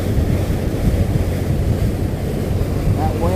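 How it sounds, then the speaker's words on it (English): Strong wind roars and buffets steadily over rushing surf on a boat trip out of Valdez, Alaska, a dense, continuous low rumble with no letup. "That wind's blowing like crazy."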